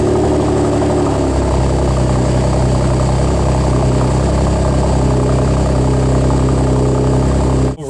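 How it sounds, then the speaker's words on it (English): Chevrolet Camaro exhaust after a cold start, settling into a loud, steady, close-up idle with a deep rumble for several seconds and no clear revs. "basically I'm just gonna give you guys cold start, revs"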